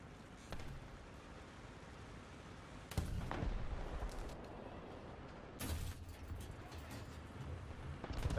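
Mortar launcher shots in the War Thunder tank game, with a few heavy booming thuds spaced a few seconds apart over steady low engine rumble, moderately loud.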